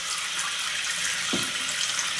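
Water runs from a bathroom tap onto a sponge during makeup-brush cleaning, a steady, loud, close hiss with one brief lower splash as the flow hits the sponge.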